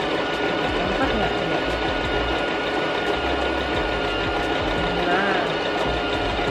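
A Brother JK17B sewing machine stitching fabric, a steady rapid mechanical whirr and ticking running continuously at close range, with a person talking over it.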